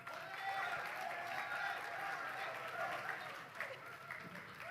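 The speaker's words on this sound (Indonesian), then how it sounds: "Sekali lagi kita berikan tepuk tangan yang meriah untuk Ibu Kade Sonia Piscayanti" An audience claps at the opening ceremony of the Singaraja Literary Festival 2024, a sustained wash of applause from a crowd that tapers slightly toward the end, with speech over it.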